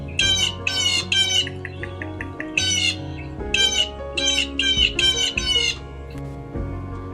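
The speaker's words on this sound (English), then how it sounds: "Blue jay." Blue jay giving a series of harsh, repeated squawking calls in short rhythmic bursts, loud and close, with low background music underneath.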